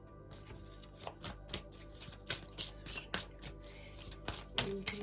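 Tarot cards are shuffled and drawn by hand close to the mic, giving a quiet run of papery riffles and soft slaps in uneven bursts, with no voices.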